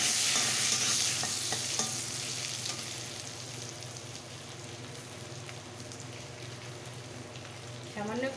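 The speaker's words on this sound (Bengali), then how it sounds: "গাজর কাটা একটু ভেজে নেব" Chopped carrot sizzles steadily in a pan, a continuous frying hiss with stirring scrapes, louder at the start and easing toward a quieter simmer before a brief stir near the end.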